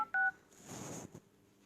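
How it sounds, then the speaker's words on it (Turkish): A telephone keypad gives a few quick DTMF dialing beeps, short and clear, followed by a brief soft rustle and then quiet. "Eğer karşıdaki kişinin numaranızı görmesini istemiyorsanız kare 31 kare yaparak numarayı girip"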